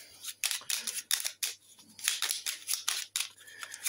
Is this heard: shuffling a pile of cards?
yes